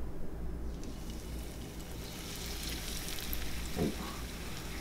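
Breaded mangrove snapper fillets go into a hot pan and fry with a steady, dense sizzle, moderately close, with a brief louder crackle near the end.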